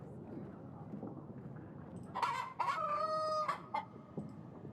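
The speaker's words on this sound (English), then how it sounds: "What is the chicken actually crowing about?" Rooster crowing in the video game Yes, Your Grace: one loud, drawn-out cock-a-doodle-doo over a quiet village background, with some clucking around it.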